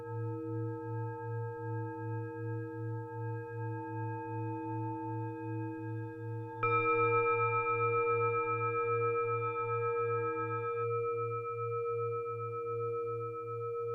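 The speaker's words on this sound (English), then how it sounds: "The sounds you are hearing even now, and have heard through the entire story, are Tibetan singing bowls." Tibetan singing bowls ring in steady, sustained tones with a slow pulsing low hum beneath, and a brighter bowl joins midway, layering shimmering overtones that hold and slowly fade, calm and close with no voices.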